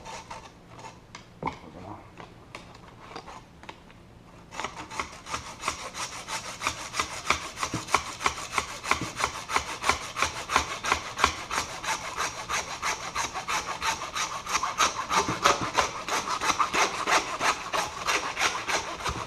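A saw cuts through a deer skull during taxidermy work, opening with a few scattered scrapes and then settling into steady, close, rhythmic back-and-forth rasping strokes.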